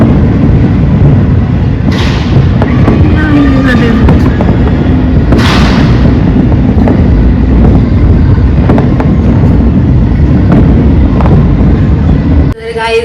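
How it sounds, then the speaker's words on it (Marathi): New Year's Eve fireworks bursting all around, a dense continuous roar of crackling and booming with sharper bangs standing out now and then, loud and sustained throughout, with voices faintly mixed in. "खूप सारे फटाके फुटत आहेत"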